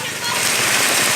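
Heavy rain falls in a village, a dense continuous hiss of drops striking surfaces, loud and close for a brief moment.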